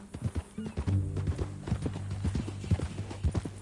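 Horse hooves clop in a quick, uneven rhythm, close and fairly quiet, with a tonal musical backdrop underneath, in the video game Red Dead Redemption 2.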